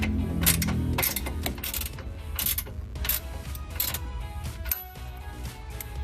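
A hand ratchet tightens a bolt on a stock Honda rear subframe bracket, making close rapid metallic clicking in bursts, with clanks of tools and parts between strokes and no voices.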